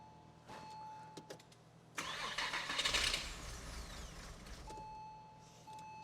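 A Porsche Boxster engine, freshly refreshed and still short of fuel pressure, cranks and catches into a rough burst of revving, then settles into a quieter running idle.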